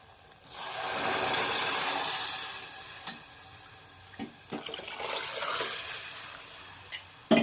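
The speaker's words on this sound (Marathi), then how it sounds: "मिक्सरची भांडी धुवून थोडीशी पाणी टाकणार आहे" Water from a rinsed mixer jar is poured into a pan of Maharashtrian katachi amti: a steady, rushing splash with a faint sizzle, then a few sharp clinks and a second, shorter pour, with no talking.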